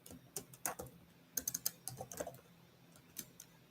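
Sparse bursts of computer keyboard typing, slow and uneven, with quiet gaps between clusters of keystrokes; close by and fairly soft, no talk over it.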